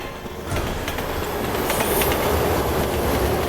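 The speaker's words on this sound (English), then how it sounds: "Look out! Train!" In the Resident Evil 6 video game, a train rushes past up close with a loud continuous roar, rattling clickety-clack of wheels and metallic squeal, building in intensity over several seconds.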